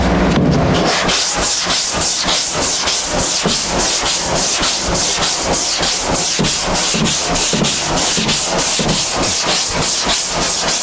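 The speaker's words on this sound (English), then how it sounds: "So I'm going to take my hard block and sand it." Automotive primer being block-sanded with a hard sanding block: a loud, close, fast, steady rhythm of rasping back-and-forth strokes that continues without pause and without talk.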